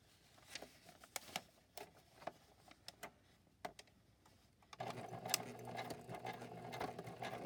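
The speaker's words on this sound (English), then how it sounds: "let's go ahead and sew this one on" Scattered ticks and clicks give way to a sewing machine running steadily for the last few seconds, a quiet whirring stitch sounding fairly close.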